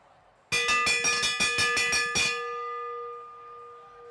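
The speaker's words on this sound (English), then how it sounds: "Here comes the bell." A bell rung for the final lap at a track cycling Madison championship clangs rapidly about ten times in a fast, even burst, then rings on and fades, loud and clear over a quiet arena.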